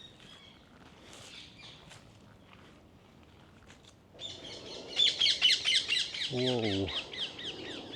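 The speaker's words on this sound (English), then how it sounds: "It's those green birds. What are they called? I have no idea. They are loud." Loud green birds, likely parakeets, calling in a royal London park: faint chirps at first, then a burst of loud, shrill squawking close by, with a brief exclamation from a person.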